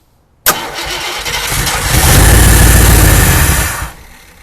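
A classic Ford station wagon engine cranks and catches abruptly, then runs loud and close, swelling in roughness before settling and cutting off near the end.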